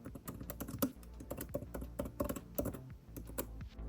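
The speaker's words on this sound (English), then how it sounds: "Let's try typing something to get an idea of how it performs." Typing on an Apple Magic Keyboard attached to an iPad Pro, a steady run of crisp, close key clicks with no talking.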